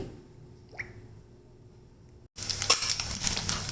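Ginger paste hits hot oil in a pan, bursting into a loud, steady sizzle after a quiet stretch with faint clinks, close and continuous with no talking.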